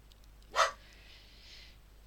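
A single short dog bark sounds at moderate distance in a quiet room, followed by a faint trailing whine.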